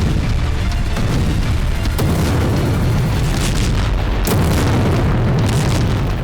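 An ammunition depot explodes in a continuous heavy rumbling roar with a couple of sharper blasts, loud and unbroken, with no voices.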